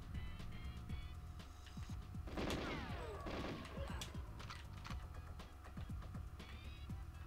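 Grenades and gunfire in the video game GoldenEye 007, a steady patter of shots with one louder explosive burst partway through, heard under a constant low background hum and without talk.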